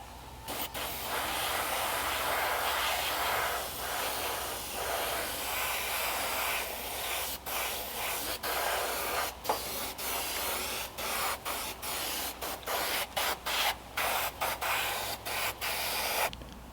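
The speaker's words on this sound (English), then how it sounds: "Hit it with some satin red paint, and then I'll put a coat of clear coat over the whole guy." An aerosol can sprays satin red paint onto a masked-off Creature from the Black Lagoon Gillman figure, a close, sustained hiss broken later by a rapid series of short bursts as the nozzle is pressed and released.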